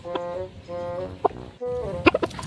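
Chickens from a stage play about cockfighting cluck in a few short, bright calls, with one isolated call early and a denser cluster of clucks near the end.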